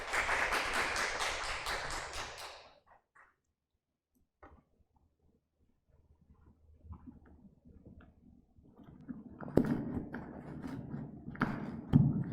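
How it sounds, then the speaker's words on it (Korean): Brief burst of audience applause welcoming a speaker at an online briefing for a student village-making contest, lasting about two seconds before near-silence and a voice beginning to talk. "큰 박수로 모시겠습니다"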